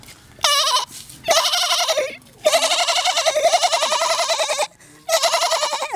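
Someone imitates the bleat of a castrated male goat, a khasi, with a string of loud, close, wavering calls of varying length separated by short gaps. No other sound is heard between them.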